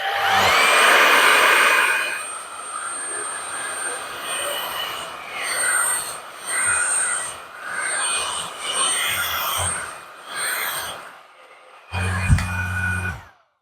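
A Riccar R65 cordless stick vacuum runs with its handheld attachment on max setting, a loud steady high-pitched whine with surging suction changes as it is moved; a person talks intermittently over it before the motor stops.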